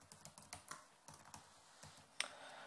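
Quick, uneven keystrokes on a computer keyboard while entering a password, a dozen or so close, crisp clicks with one sharper tap near the end, no talking.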